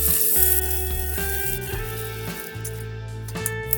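Chopped ginger and curry leaves frying in hot oil in a pan, giving a steady close sizzle with faint crackles throughout and no voices.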